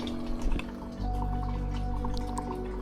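Water runs from a Bioglass water dispenser: a few drips and splashes first, then a steady, close stream that flows evenly to the end.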